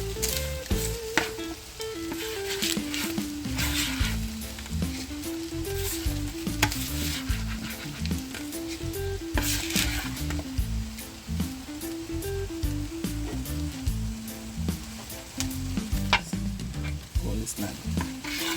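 Potatoes sizzling in a pan with corned beef for hash, a constant close frying hiss with scraping stirring strokes throughout and a voice talking faintly underneath.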